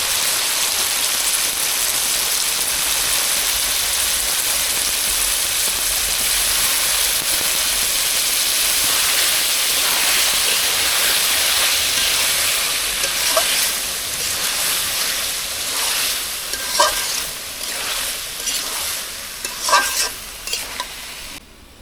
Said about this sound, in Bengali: আলু আর বরবটি দিয়ে দিলাম কষানোর জন্য